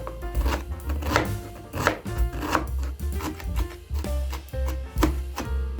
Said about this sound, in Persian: 2 تا پیاز بزرگ و نگینی ریز خورد میکنم